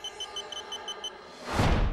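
A Delkim TXi Plus carp fishing bite alarm gives a run of about seven short, evenly spaced high electronic beeps, close and clear, then a loud whooshing rush of noise swells over the end.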